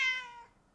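A single short cat meow, fairly close and clear, with a bright harmonic cry that fades over under a second and no speech.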